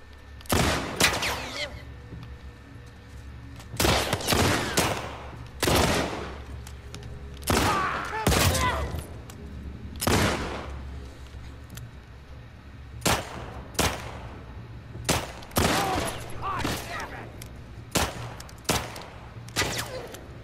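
Gunfire in The Last of Us Part 2 rings out as a dozen or more sharp, loud shots at irregular intervals, some in quick pairs, with a faint background rumble and no clear talking.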